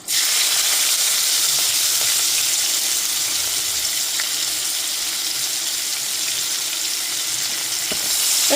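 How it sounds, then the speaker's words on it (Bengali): Chopped onion frying in oil in a pan over a gas flame for a fish curry, giving a steady, dense sizzling hiss that runs unbroken from start to finish, with no voices. "পেঁয়াজটাকে একটুখানি ভেজে নেব।"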